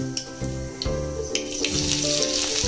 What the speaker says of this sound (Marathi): तेल घ्यायचं आहे, तेलात जिरे मोहरी टाकून घ्यायची आहे